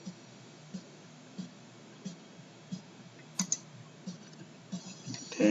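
Faint computer mouse clicks used while working in Inkscape, about one every half second to second, quiet and sharp over a soft background hiss, with a few louder clicks near the end.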